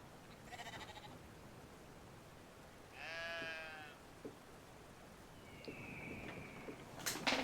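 A single sheep in the video game Brothers: A Tale of Two Sons bleats in a wavering, clearly synthetic call over a low hum, with a few soft clicks and chirps scattered around it.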